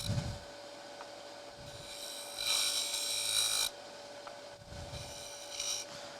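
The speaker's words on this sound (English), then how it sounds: "go back to my round nose scraper for this. And I'm just going to very gently just open this up." A round nose scraper works a turned wooden lidded box on a lathe, giving soft, steady scraping and rubbing over a constant motor hum, with a brighter, louder stretch of cutting in the middle.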